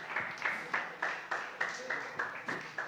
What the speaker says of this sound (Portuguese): Bata a palma para Jesus aí